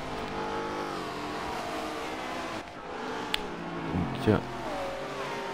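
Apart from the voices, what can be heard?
Aston Martin V8 Vantage V600 engine drifting, Forza Motorsport 7 video game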